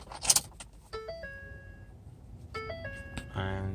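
Ignition switched on in a 2013 Ford F150 base model: a brush of keys, then two rising sequences of electronic chime tones from the dash, each a short stepped melody, followed by a low cabin hum.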